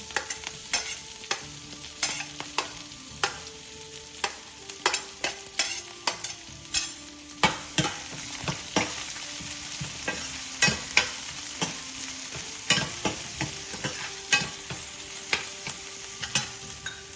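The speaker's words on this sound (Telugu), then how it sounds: "ఆనియన్స్ తొందరగా ఫ్రై అవ్వడానికి కొంచెం సాల్ట్ వేస్తున్నా" Chopped onions with a pinch of salt frying in a pan for an aloo matar curry, with a continuous hiss of sizzling oil and frequent sharp scraping and tapping stir strokes.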